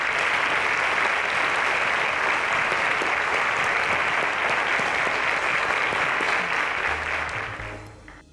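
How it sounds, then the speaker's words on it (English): A studio audience at a quiz show applauds a contestant with loud, dense, steady clapping that holds for about seven seconds before fading away at the end. "Ladies and gentlemen, a round of applause to him."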